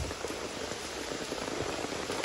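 Heavy rain pours on a hillside near a streambed while someone gathers rain-flower stones, a steady even hiss with scattered drop patter and no voices.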